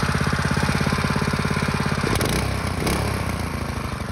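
A Predator 212 small engine on a mini ATV runs close by, a loud rapid pulsing putter that roughens and shifts pitch halfway through, then settles into a steady run, with no talk.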